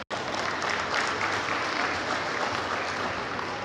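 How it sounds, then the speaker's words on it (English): Sustained applause from an audience at a dairy cattle show, honoring exhibitors and breeders, a dense even wash of clapping starting abruptly and continuing steadily at full strength. "could we just give a round of applause to all your exhibitors and breeders?"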